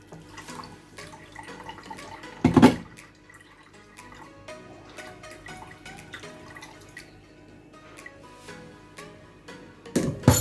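Juice poured into a cloth-lined sieve, with soft close dripping and trickling throughout and two brief louder splashy bursts near the start and end.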